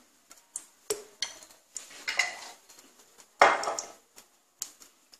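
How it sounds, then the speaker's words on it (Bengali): A metal kadai is set on a gas stove and white oil is added for a chicken samosa filling: scattered close metallic clanks and knocks, with one louder scraping clatter near the middle and no speech. "গ্যাসে কড়াই বসিয়ে দিচ্ছি, আমি অল্প করে সাদা তেল দিলাম,"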